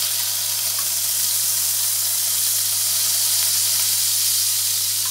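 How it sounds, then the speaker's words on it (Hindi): Butter sizzles on a hot tawa pan, a steady, loud frying hiss with a faint low hum beneath, continuous and close. "पर एक बर्तन चढ़ाए हैं, इस पर हम बटर डाल देते हैं।"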